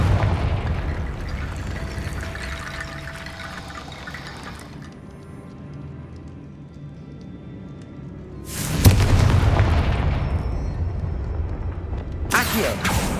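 A Confringo spell explodes in Hogwarts Legacy. Quiet, watery ambience is broken by a sudden loud boom with a bright crackling burst that rumbles on afterward, then a second sharp burst near the end.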